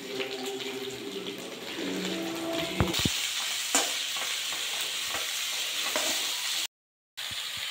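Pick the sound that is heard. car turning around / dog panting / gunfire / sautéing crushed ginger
sautéing crushed ginger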